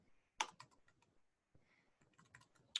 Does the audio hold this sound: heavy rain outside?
no